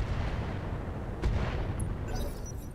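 Weapons fire in the Roguetech mod of the BattleTech video game, a dense rumble of artillery-like booms with one sharper blast in the middle and faint electronic tones near the end.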